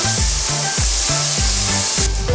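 Pepper and chopped culantro stir-frying in butter for Trinidad curry crab and dumpling, a steady close sizzle with a rhythmic scrape of stirring repeating under it, no talk.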